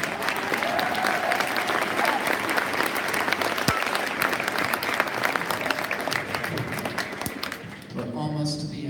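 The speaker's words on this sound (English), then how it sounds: "Let's give them a round of applause as well." Spring band concert audience giving sustained, dense applause for school staff, loud and continuous with crowd murmur, tapering near the end as a voice starts speaking.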